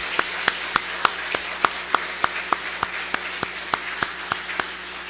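A church congregation at a Sunday service claps in a steady rhythm. The sharp, even claps come about three times a second for five seconds over a quiet background hum.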